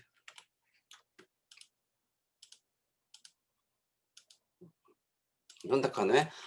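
Computer keyboard keys are pressed in sparse, quiet clicks, single taps and small clusters spread across several seconds, followed by a person beginning to talk at the end.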